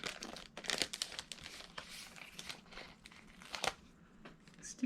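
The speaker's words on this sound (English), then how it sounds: "I am just going to remove that sticker from the pack." Sticker peeled from a wrapping-paper sticker pack, bursts of close crinkling and papery crackle with a faint rip, uneven and soft throughout.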